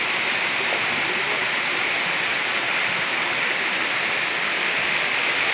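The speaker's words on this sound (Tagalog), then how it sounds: "Natural spring galing sa bundok." Mountain spring water on Camotes Island pours in an unbroken, dense roar, loud and near, with no voices or other sounds over it.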